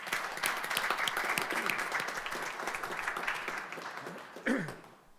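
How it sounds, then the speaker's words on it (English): Sustained round of applause from the audience at a city council meeting, steady dense clapping that slowly thins toward the end, with a brief voice or cough near the close. "Can we give another round of applause?"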